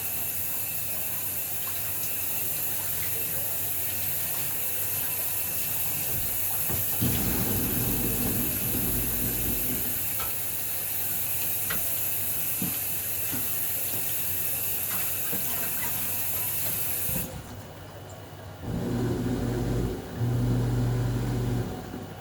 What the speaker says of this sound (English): Alright, rinse it all the way out.